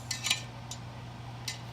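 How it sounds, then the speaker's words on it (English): A metal whisk clinks and scrapes against the inner pot of an Instant Pot while yogurt starter is stirred into about a gallon of milk, a few quick taps close by over a steady low hum. "Once you get it dumped in there, I use a whisk"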